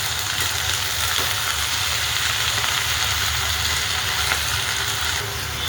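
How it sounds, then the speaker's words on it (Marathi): Fenugreek leaves fry and are stirred in a pan, giving a steady close sizzling hiss with faint scraping from the stirring and no voices. "आता हलवून घेतलेली आपण मेथीला छान अशी."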